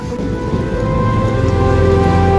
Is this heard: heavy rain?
yes